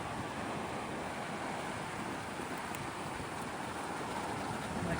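A cold river flows beside hot spring pools in the Sequoia and Kings Canyon backcountry, its steady broad rushing roar unbroken and fairly close throughout.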